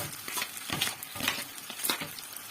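Potato pieces frying in a generous amount of oil with garlic, giving a quiet, steady sizzle broken by soft, irregular stirring scrapes and spatters.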